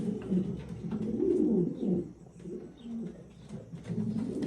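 Several pigeons coo in low, throaty, overlapping rolls, close by and steady throughout.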